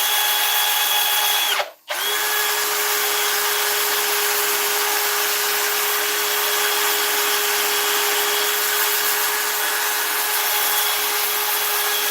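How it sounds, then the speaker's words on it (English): A slowed drill driver whines steadily at close range with an abrasive sanding rub on turned oak, briefly stopping near the start before running continuously again. "we're going to slow the drill driver down"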